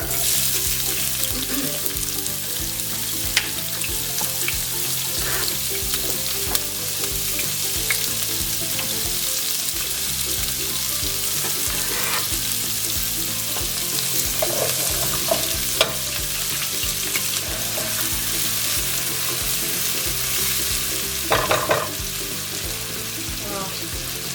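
Chopped onions sizzle and crackle steadily in hot oil with seeds for a long stretch, with occasional stirring clinks and no one talking.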